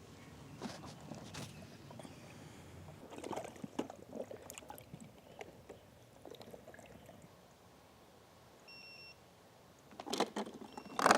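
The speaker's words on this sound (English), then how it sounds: "It's beeping." An Aiper Smart cordless automatic pool vacuum cleaner gives a short, faint electronic beep near the end, over quiet handling noise and rustling.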